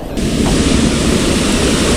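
A swollen stream in flood during heavy rain, rushing water roaring loud and steady, a dense broadband wash that stays constant and close with no voices.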